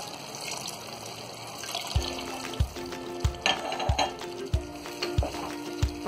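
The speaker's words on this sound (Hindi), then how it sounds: "अब हम इसमें डाल देंगे आधा कप पानी" Half a cup of water is poured into mutton methi malai in a pot, a splashing, bubbling pour over steady cooking noise, joined by several sharp knocks at a regular rhythm.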